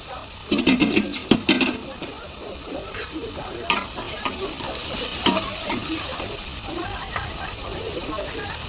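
Chhole masala with kasuri methi roasting in a pan while being stirred: a steady loud sizzle and hiss, punctuated by spoon scrapes and clicks, close up throughout.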